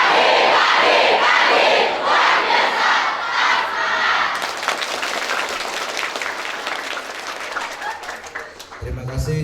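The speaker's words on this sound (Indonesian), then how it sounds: "Terakhir tepuk tangan yang keras." Loud applause and shouting cheers from a crowd of students at a high school orientation assembly in Karangjati, an intense roar at first, then steady clapping that carries on to the end.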